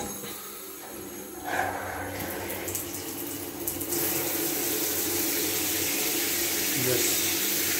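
Water gushes from a tap into a newly fitted bathtub during a water test, a continuous close rushing splash that grows louder and fuller as the flow opens up.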